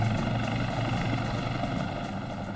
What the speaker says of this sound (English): As the next wave of helicopters arrived